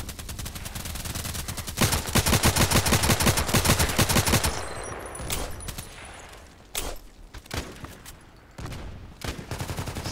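Rapid bursts of assault rifle fire ring out in the shooter game Contract Wars. A dense stream of shots runs for several seconds and then breaks into scattered single shots and short volleys.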